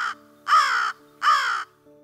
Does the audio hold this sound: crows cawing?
yes